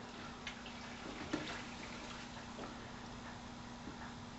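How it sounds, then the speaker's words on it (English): Water is poured into a dental stone mix, a steady soft wash of liquid that runs for several seconds with faint splashes and one small knock partway through. "And I'm going to pour the water in."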